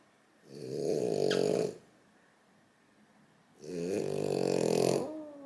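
A small dog snores, two long rasping breaths with a quiet pause between them, close and clear with no voices.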